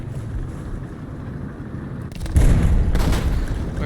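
Heavy impacts strike an armored APC carrying a French turret during a combat video game, a loud booming burst landing mid-clip and then sustained rumbling hits, close and with no talk.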